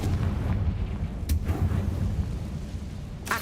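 A Confringo blasting spell explodes in Hogwarts Legacy with a sustained, loud, rumbling blast and two sharp cracks, close and alone.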